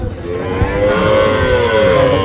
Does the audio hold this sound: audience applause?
no